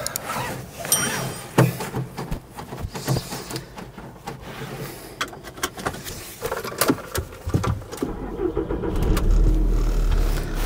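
A petrol Volkswagen Transporter van with a 5-speed gearbox and 93,000 miles cranks and starts, then idles and pulls away, with clicks and rustles inside the cab and the engine note rising toward the end.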